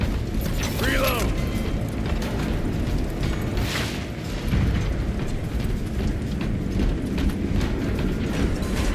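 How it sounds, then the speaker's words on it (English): In Space Marine 2, bridge control gears grind and ratchet continuously amid dense game noise, with creaks and muffled explosive rumbles layered over a steady mechanical churn. "Gears are grinding like an old contraption"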